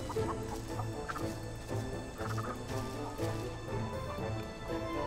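Chickens cluck from The Texas Chain Saw Massacre video game, a steady busy run of fowl clucking over a dense game soundscape with a low hum.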